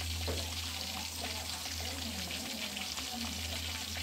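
A white cheddar cheese sauce bubbles and sizzles softly in a pan while being stirred, giving a steady low hiss with faint scraping underneath, close and with no talk.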